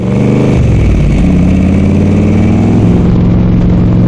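Shelby Cobra engine running very loud and close, a deep steady rumble that shifts pitch early on as it revs, then holds a strong throbbing idle throughout.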